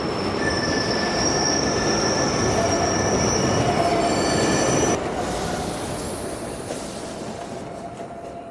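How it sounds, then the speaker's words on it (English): A train rolls along the rails on the way back to Melbourne, a loud, steady rumble with sustained high metallic wheel squeal that fades slightly as the run continues, no voices. "let's get back on the train right now as we return back to Melbourne"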